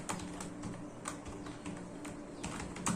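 Python code for a queue program being typed on a computer keyboard: quiet, fast, uneven key clicks close by, with no talking.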